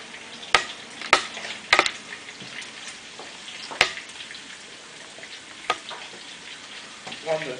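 Sausage and onion frying in a pan, a steady close sizzle with several sharp clacks of stirring utensils against the pan, a voice talking lightly underneath.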